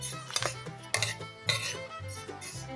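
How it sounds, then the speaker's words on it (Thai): White sesame seeds roast in a pan, giving light clinks and scraping taps from stirring in an uneven rhythm, close and moderately quiet with no talking. "เรามาคั่วงา กันนะครับผมงาขาวครับ"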